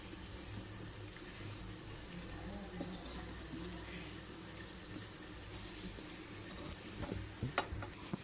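Dal balls frying in a shallow layer of oil in a pan, a steady low bubbling sizzle with soft stirring and scraping that grows a little busier toward the end, with no talk over it.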